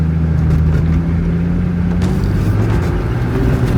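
A 4-wheel drive vehicle grinds up a steep, extreme trail ascent, its engine droning loud and close with a shift in pitch midway as it strains uphill.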